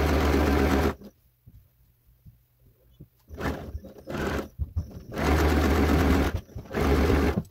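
Sewing machine stitching a pillow case, running in loud steady bursts at the start and again near the end, with a quieter pause of light handling noises in between.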